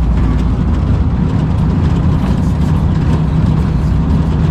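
An owner-type jeep engine idles loudly and close, a steady low rumbling drone with no pauses throughout.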